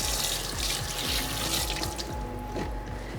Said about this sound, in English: Give my hand a quick rinse.